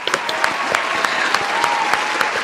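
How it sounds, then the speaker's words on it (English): Applause and cheering from a live podcast audience celebrating a 49ers victory over the Buccaneers, a steady dense wash of clapping with a few sharper claps and whoops running throughout. "Round of applause"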